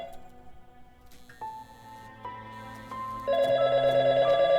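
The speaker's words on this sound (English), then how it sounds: "However, the phone rings." A telephone rings in a film scene set in an old police station on its last night, with electronic tonal ringing building in layers and growing louder toward the end, no talk over it.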